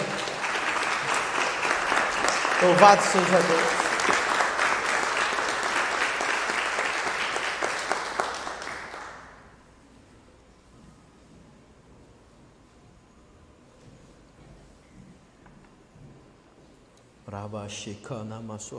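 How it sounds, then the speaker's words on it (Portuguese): Church congregation applauding the Holy Spirit during a Portuguese-language service, about nine seconds of dense, vigorous clapping that fades out, followed by near quiet and then a spoken voice. "E vamos aplaudir ao Espírito Santo com força"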